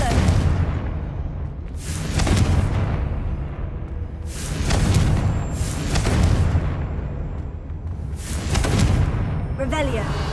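Confringo fire spell blasts in Hogwarts Legacy land as three or four deep, rumbling booms spaced a couple of seconds apart, each swelling and fading, with a bright magical shimmer near the end.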